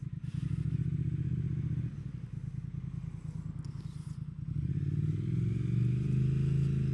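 A 2020 Triumph Speed Twin 1200 motorcycle twin engine runs at a low, throbbing idle, dips briefly, then rises to a louder, steadier rumble near the end, with faint clatter and no speech.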